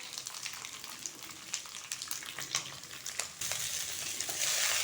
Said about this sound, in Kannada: ಸೊ ರೈಸ್ ಆ್ಯಡ್ ಮಾಡಿ ಮಿಕ್ಸ್ ಮಾಡೋಣಂತ.